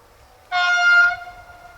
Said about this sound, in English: here at Villarosa we see a 3-car electric unit en route between Catania and Palermo